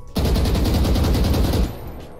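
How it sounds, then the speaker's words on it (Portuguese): A Vandal rifle in Valorant fires on full auto while boosted by a combat stimulant, a loud, rapid, evenly spaced burst of shots lasting about a second and a half before cutting off abruptly. "Olha a velocidade do disparo da Vandal"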